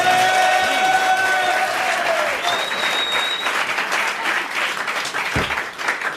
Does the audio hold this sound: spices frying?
no